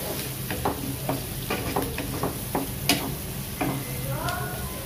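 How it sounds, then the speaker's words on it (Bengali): Onions fry in a pan, a continuous sizzle broken by repeated scraping stirs at an uneven rhythm, close and moderately loud, with a short voice near the end. "পেঁয়াজটা ভাজা হয়েছে কিনা না, পেঁয়াজটা ভাজা হয় নাই"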